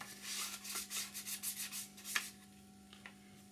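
A rubber-gloved finger rubs weathering onto a 1/48 Eduard MiG-29 model kit, producing soft, close, rhythmic scrubbing strokes that fade into a few light taps over a faint steady hum.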